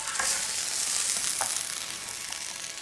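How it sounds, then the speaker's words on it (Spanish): Portobello mushrooms and a sauté sizzle in a pan over the heat, giving a steady close frying hiss with a few soft stirring scrapes and no talking. "Voy a dejar en fuego bajo mis portobelos que se vayan asando y mi salteado lo voy a subir un poco."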